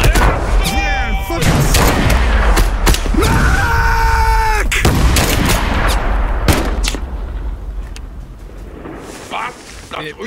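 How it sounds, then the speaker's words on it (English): Heavy gunfire and explosions from the Mud and Blood war video game, loud repeated shots and blasts with whistling tones and shouted voices, thinning out toward the end. "Taking my shot."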